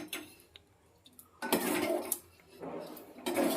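A wok set onto a stove burner while cooking lentil dal with jackfruit seeds, heard as sharp metallic clanks and pan scrapes in short bursts, close and moderately loud, with no talking.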